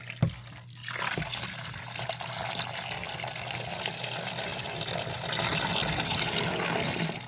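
Water draining from household plumbing through an opened zone valve during a DIY bathroom remodel with PEX pipes: a steady, close rushing trickle that starts after a brief knock and carries on unbroken, swelling slightly toward the end.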